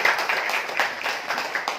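An audience at a PT BEST marketing seminar claps steadily, a dense, even patter of many hands held at a moderate level throughout.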